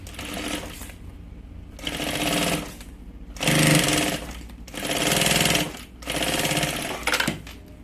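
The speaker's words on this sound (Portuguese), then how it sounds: "Agora é só fazer uma costura de segurança em cada lado aqui, pra segurar esse forro." A sewing machine stitches the fabric lining of a pencil case in five close, loud bursts of rapid mechanical chatter, each lasting about a second, separated by short pauses.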